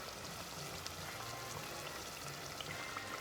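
Holiday pastries called zoriette deep frying in hot oil, giving a steady, dense crackling sizzle that stays fairly quiet and unbroken throughout, with no talking.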